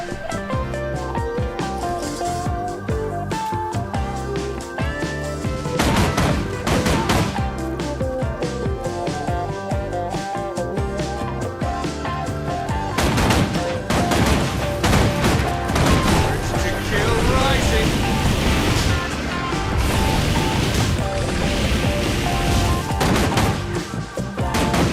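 Rifle and pistol gunfire in the Guild Wars 2 video game, heard as dense bursts of shots and crashes layered under a constant, loud game soundtrack across the whole stretch.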